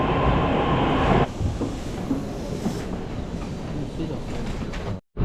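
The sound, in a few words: train waiting at the station platform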